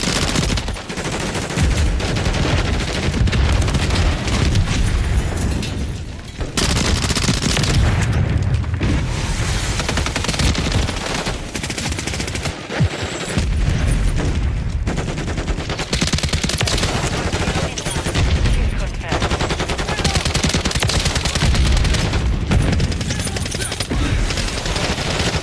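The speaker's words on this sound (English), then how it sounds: "Taking fire." Loud, sustained gunfire in Call of Duty, with dense automatic bursts and heavy booms piling up with barely a break, close and intense throughout.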